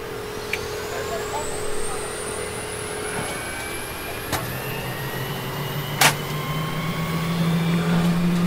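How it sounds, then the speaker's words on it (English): Airbus A330 engine 1 spooling up on the ground during departure at Seattle, a rising whine climbing steadily over a constant low rumble, with a brief louder click or thump near the end and a deepening drone underneath. "Engine start, engine 1."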